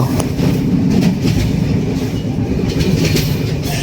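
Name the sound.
train running over the Padma bridge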